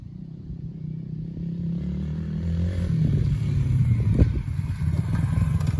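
A dirt bike engine idles steadily while warming up on a roughly 50-degree day, nearby with a low, throaty rumble that grows slightly louder partway through, and no talk.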